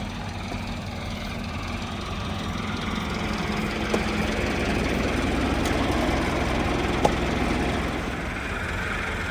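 Massey Ferguson MF 385 tractor stuck in place, its diesel engine running in a steady low rumble throughout, with faint knocks and clicks over the drone and no speech.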